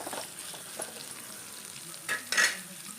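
Tempering frying in oil for a fish sambar, with a low steady sizzle and a couple of louder bursts of crackling and stirring near the end.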